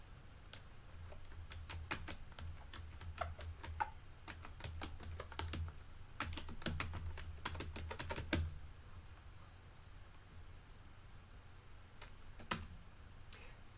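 A noisy computer keyboard is typed on at close range, giving bursts of sharp clicking keystrokes with short pauses between runs and a faint hum underneath.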